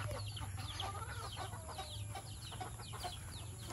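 A flock of chickens kept at a house, a busy overlapping chatter of clucks and short calls, some nearer and some farther, running continuously at low level over a steady background hum.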